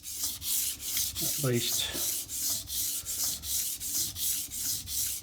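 A blade is stroked rhythmically across a 1000 grit sharpening stone, about a dozen even rasping passes roughly every half second, close and clear, with a brief spoken word partway through.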